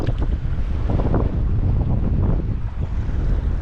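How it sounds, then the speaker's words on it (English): Wind buffets the microphone out on a boat on the water near Emerald Cave in Arizona, a loud, continuous gusty roar with low rumble and faint wave wash, no talking. "It feels kind of good with the wind."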